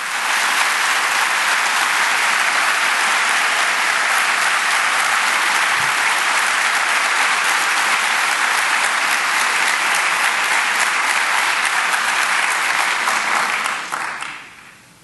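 Dense, sustained applause from a large seminar audience fills the hall at a steady loud level for about fourteen seconds, then tapers off abruptly at the end.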